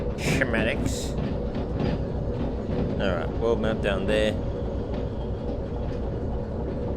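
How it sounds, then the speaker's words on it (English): A train in the video game Derail Valley rumbles steadily over track points, with a constant low rolling drone and clustered rhythmic clacks in the middle. Someone speaks briefly over the start. "Our train is nicely going through the points here."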